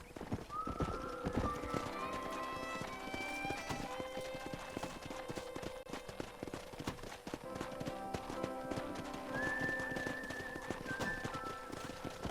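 Steady clip-clop of horse hooves trots along in the video game Red Dead Redemption, beneath a whistling melody and background music, with a brief whinny early on.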